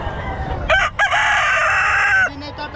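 A large four-year-old Golden Grey rooster at a pet market crows loudly nearby, one long drawn-out call with a brief break near the start, over faint background noise.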